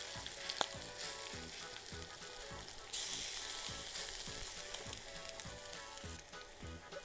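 Potato pancakes (deruny) fry in a pan with a steady, close, loud sizzle and crackle that runs the whole time, with a brief sharper burst partway through and no talking.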